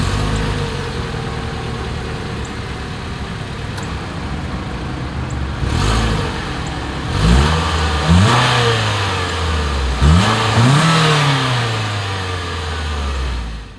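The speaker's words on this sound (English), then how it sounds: "As always, here is that exhaust clip." A 2023 Mitsubishi Outlander Sport idles steadily, then its exhaust is revved in four or five sharp throttle blips that rise and fall back to idle, close and loud with no talking.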